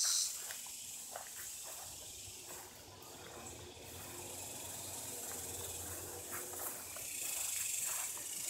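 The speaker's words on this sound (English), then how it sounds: "And as you can hear, the cicadas are still going." Cicadas drone steadily in a pepper garden on a summer day, a continuous high buzzing wash that swells and fades slightly, with no talking.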